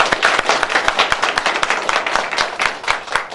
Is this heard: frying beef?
no